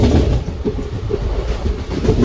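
Wheels of the Chennai SF Express 12604 drumming over rail joints, a close, continuous rumble with a quick repeating clickety-clack beat, picking up speed after a halt, no voices.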